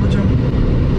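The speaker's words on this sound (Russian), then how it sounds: "Давайте еще раз крутим." Engine of a LADA Granta with automatic transmission being revved, a dense, loud low rumble heard from inside the car, steady throughout with a voice speaking over it.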